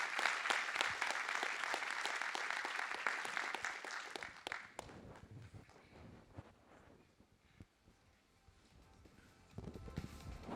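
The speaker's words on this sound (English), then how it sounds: "So please give them a round of applause and our thanks." Audience applause for a panel of speakers at a digital infrastructure conference, a dense clapping wash for about four seconds that thins into scattered claps and room noise, with a brief swell near the end.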